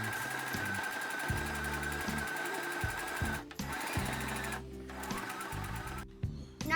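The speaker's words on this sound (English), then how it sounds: "We will now be sewing all around with no gaps." A sewing machine stitches around the edge of a fabric origami fox bag, its rapid needle chatter running in several bursts with brief pauses between, close and fairly quiet.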